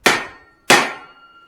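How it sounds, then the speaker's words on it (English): Two sharp, ringing hammer blows strike hot steel while a Swedish-style cross peen is forged, each loud close clang decaying into a metallic ring, about half a second apart. "I'm kind of keeping the hammer face off the anvil."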